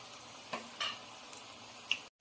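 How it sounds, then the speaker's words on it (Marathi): Cabbage pakora vadas fry in hot oil on their second side, a soft, even sizzle broken by a few light clicks and utensil taps before cutting to silence. "तर आता मी दुसरी बाजू त्याला तळायला सोडलं आहे."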